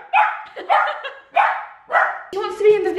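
A pet dog gives four sharp, evenly spaced barks close by, followed by a voice speaking.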